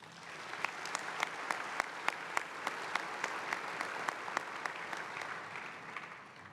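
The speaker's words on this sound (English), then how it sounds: "I'd like a round of applause for our International Steering Committee." An audience at a World Congress opening ceremony applauds the International Steering Committee, giving sustained, even applause with a few sharp individual claps standing out at fairly regular intervals.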